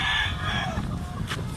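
A Black McRae Brass Back rooster on a farm in Hawaii crows once, close and loud, the call trailing off over steady low outdoor background noise.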